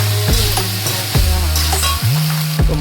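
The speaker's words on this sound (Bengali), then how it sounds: "তারপর এটা মশলাটা এর সাথে মাখিয়ে নেব।" Boiled chickpeas being stirred with spices in a hot pan for vegetarian chana masala: a loud, close sizzle with repeated scraping strokes of the spoon roughly once a second.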